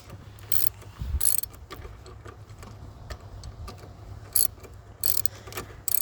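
A ratchet tightens the serpentine belt tensioner on a 2000-2004 Subaru Outback, giving bursts of quick, close clicking separated by short pauses and faint mechanical rattles, with no talking.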